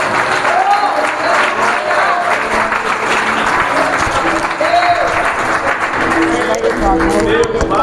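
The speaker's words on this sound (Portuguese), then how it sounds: "Você pode aplaudir o Senhor." A church congregation at a Baptist women's conference applauds, dense steady clapping filling the hall with cheering voices and talk mixed through it.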